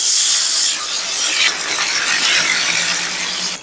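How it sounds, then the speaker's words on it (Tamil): Water poured into a hot pan of mango, ginger and curry leaves for rava upma, giving a loud, steady steaming hiss that rushes up at once and holds near and continuous. "ஒரு கப் ரவைக்கு மூணு கப்பு ஜலம் விட்றேன்"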